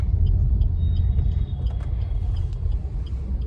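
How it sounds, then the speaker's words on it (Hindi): Continuous low rumble of Delhi road traffic, cars and auto-rickshaws passing near an auto stand, with a few faint horn-like tones above the drone and no speech. "दिल्ली की ट्रैफिक की तरफ बढ़ते हुए हम"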